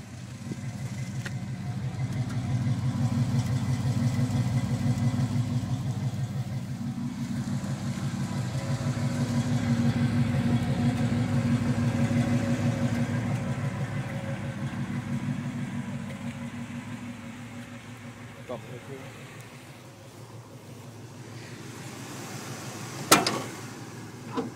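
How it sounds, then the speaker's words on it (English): A 1976 Nova with a 383 stroker V8 and a Flowmaster 40 series dump exhaust idles with a steady, deep low rumble that swells and eases slightly, ending with a couple of sharp clicks. "This got Flowmaster 40 series dump."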